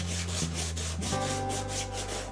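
Steady rhythmic rubbing of sandpaper on a white leather sneaker, close and continuous, with a low machine-like hum running underneath the scraping strokes.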